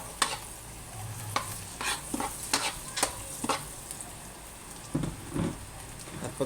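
Garlic sautéing in a pan, where a low sizzle runs under frequent sharp spatula scrapes and knocks that come in uneven bursts, close by and fairly crisp.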